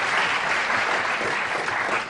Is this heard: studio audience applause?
yes